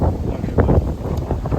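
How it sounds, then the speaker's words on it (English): Strong wind at a beach buffeting the microphone, a loud continuous low rumble with gusty swells throughout. "It's windy as hell."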